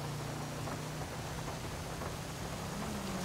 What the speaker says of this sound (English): It's raining in here.